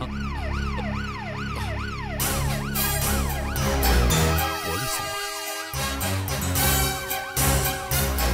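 A police jeep siren wails in repeated rising and falling sweeps, loud and close as it arrives, with engine rumble and other scene sounds mixed underneath and no speech.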